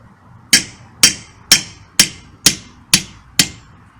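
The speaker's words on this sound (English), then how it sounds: "take that punch, go right in the center of your band" Hammer striking a punch through a cooper's metal barrel band on an anvil, seven sharp ringing blows at a steady, even pace, close and loud with no talk.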